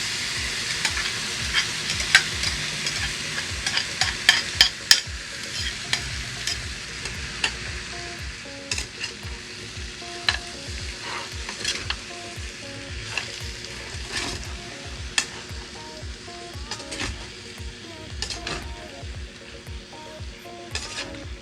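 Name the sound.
sautéing canned tuna with potatoes in a pan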